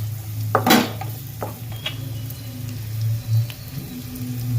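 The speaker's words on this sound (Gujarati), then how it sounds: "લસણ ડુંગળીને પાંચ મિનિટ પકાવી દઈએ ધીમા ગેસ ઉપર" Garlic and onion frying over low gas in a pan for a dhaba-style gravy, a steady close sizzle with a few sharp utensil clinks and scraping stirs.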